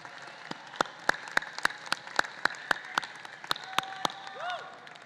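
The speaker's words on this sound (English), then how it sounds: "please turn and give a round of applause to your family members" Scattered, sparse clapping from an audience at a high school commencement ceremony, sharp individual claps at an irregular pace, with a faint whistle-like tone near the end.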